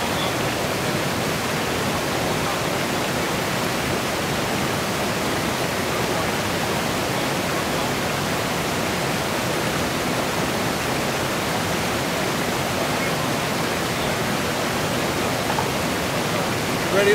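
Flowing stream water during gold trap rinsing, a continuous broadband rushing wash that stays steady and fairly loud throughout with no clear breaks.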